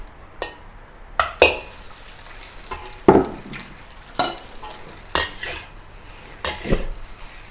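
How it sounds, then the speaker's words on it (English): Rice grains stir-fry in oil in a wok for Thai-style crab fried rice, with a constant close sizzle broken by about eight loud metallic scrapes and clanks of a spatula against the pan, spaced roughly a second apart. "Add some more oil into the wok. And add the rice grain that I have already break it up into individual grain."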